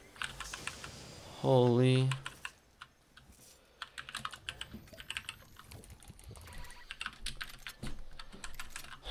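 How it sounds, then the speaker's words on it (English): Rapid clattering of computer keyboard keys runs throughout during a Fortnite game, with a loud burst of shouting early on and people talking over the typing. "can you somehow make it so you can't hear your keyboard?"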